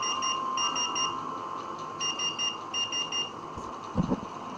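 Electronic beeps from a CAMBAYE CA-AC2000 RFID access control reader, a steady tone with short repeated bleeps in quick clusters, close and clear over a constant hum, no talking.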